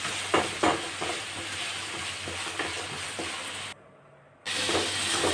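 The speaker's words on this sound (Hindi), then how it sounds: "मैंने मसाला वगैरह डाल दिया, टमाटर प्याज डाल दिया और यहाँ पर मेरा मसाला पक रहा है।" Masala with tomato and onion fries in a pan with a steady, close sizzle and a few stirring scrapes, briefly cutting out before the loud frying hiss resumes.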